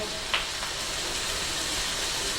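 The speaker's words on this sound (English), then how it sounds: "You can hear that starting to sizzle a bit." Vegetables sizzle steadily in a hot stir-fry pan, a constant broadband hiss with a brief clatter near the start.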